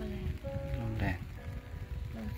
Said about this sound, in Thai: วันนี้นี่ฝนตกอยู่นะครับ